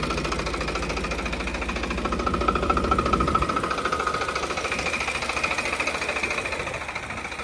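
A Farmtrac 60 tractor with a three-cylinder 55 HP engine runs steadily up close, its rhythmic, knocking rumble swelling briefly in the middle before settling back into an even chug.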